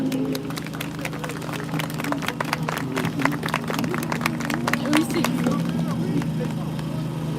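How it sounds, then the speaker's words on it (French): Crowd applause at a street demonstration in Strasbourg, a steady spread of clapping with scattered sharp claps over a constant low hum of outdoor noise, lasting throughout at moderate loudness. "Je vais vous demander d'applaudir,"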